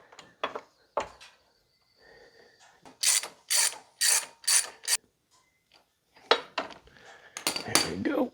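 Ratchet turning in a new spark plug on a Kubota Z251 mower, with bursts of quick metallic clicking in several short runs separated by pauses, close and fairly quiet.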